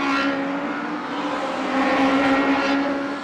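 Mini stock cars racing around an oval track, a loud steady engine roar with droning harmonics that swells slightly as the field passes.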